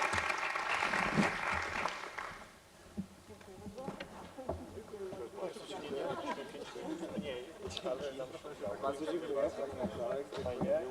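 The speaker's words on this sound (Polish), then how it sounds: "Let's have a round of applause for the speakers." Audience applause after a panel discussion at a heritage innovators event, a dense burst of clapping in the first two seconds, then crowd chatter and voices talking over the fading claps.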